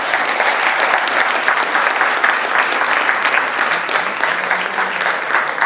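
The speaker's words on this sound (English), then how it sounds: "let's give a big round of applause to Andy." Audience applause after a talk at a lecture event, steady dense clapping from a large crowd filling the whole stretch, loud and close with no pause.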